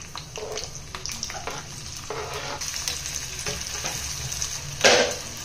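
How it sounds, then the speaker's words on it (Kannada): Chopped onion fries in hot ghee for a tempering, giving a steady close sizzle with scraping stirs and a louder burst of crackle near the end. "ಈಗ ನಾನು ತುಪ್ಪದಲ್ಲಿ ಒಗ್ಗರಣೆ ಕೊಡ್ತಾ ಇದ್ದೀನಿ"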